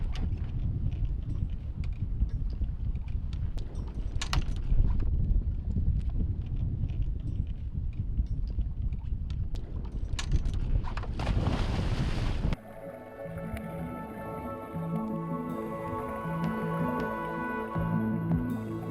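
Wind gusts over the water on a windy day during a lobster dive, with a strong tidal current, a loud continuous rush that breaks off abruptly partway through.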